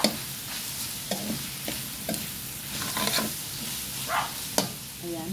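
Shrimp hitting a hot pan for pancit guisado, sizzling steadily up close while a utensil stirs and scrapes in repeated strokes, with no voices.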